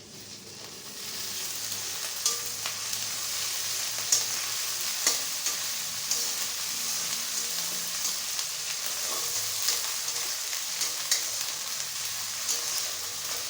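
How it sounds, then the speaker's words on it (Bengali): Ginger paste tipped into hot oil in a home kitchen pan, giving a steady, close sizzle that runs throughout with scattered soft stirring clicks and scrapes. "এবার আদা বাটাটা দিয়ে দিচ্ছি।"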